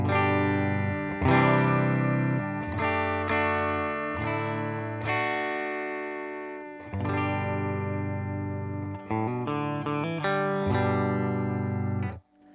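Electric guitar chords ring out through a gritty overdrive from a Joyo Tauren Klon-clone pedal into a Fender Silverface amp with a little reverb, each struck and sustained in a steady sequence with no talking.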